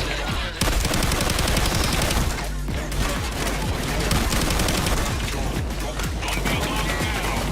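Gunfire in the video game Payday 2 blasts almost nonstop, dense rapid automatic shots and loud bursts, close and overwhelming throughout.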